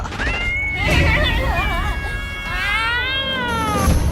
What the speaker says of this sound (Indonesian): kok ada suara kucing lagi sih, Bu?